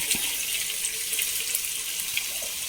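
Onion dropped into a hot pan with whole spices for a ghee rice and liver curry, giving a steady, fairly faint crackling sizzle that runs evenly throughout with no talking.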